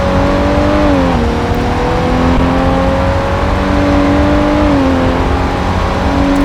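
A Koenigsegg Gear RS engine in Gran Turismo on a top speed run, a loud steady high-revving drone held at near-constant pitch, with slight dips around gear changes, continuous and close with no talk.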